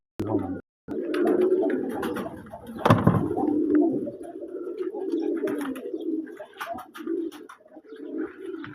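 Pigeons coo steadily and close by, low throaty calls overlapping one another almost without a break, with a brief pause near the start and a short sharp knock partway through.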